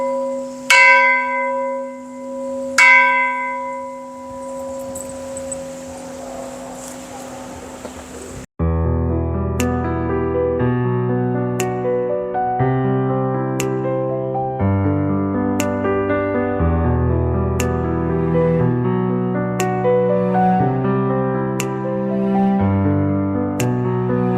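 Temple bell at a Thai Buddhist temple in Phitsanulok struck twice with long ringing decay, followed by a steady sequence of many metallic bell strikes in a rhythmic melodic pattern, loud and close.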